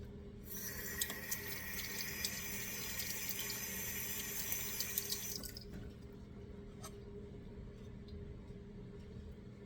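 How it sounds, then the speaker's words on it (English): Tap water runs steadily into a sink while hands are washed, about five seconds of continuous splashing that then stops, leaving a quiet room with a few faint drips and clicks. "Wash my hands and we will get this going."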